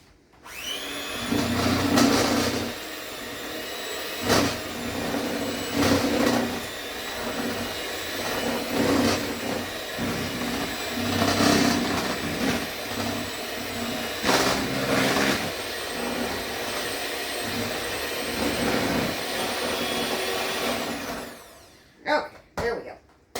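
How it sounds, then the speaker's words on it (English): An electric mixer whirs continuously for over twenty seconds while beating molasses cookie dough, close and fairly loud, with sharp knocks and sputters scattered through the run before it stops near the end. "We're going to go back to the mixer."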